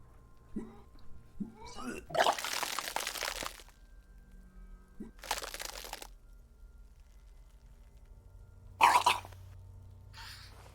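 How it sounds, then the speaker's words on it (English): A character in the video game Disco Elysium retches and vomits in several separate wet, heaving bursts, each a second or so long, separated by quiet pauses with faint background ambience. "Your body curls and pushes it out, burst by burst. Until a pool of vomit lies under your feet"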